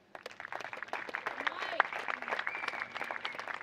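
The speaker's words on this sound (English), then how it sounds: "A round of applause for Mike Groft." A crowd at a charity tennis event applauds for Mike Groft. The clapping is moderate and steady for a few seconds, with faint voices mixed underneath.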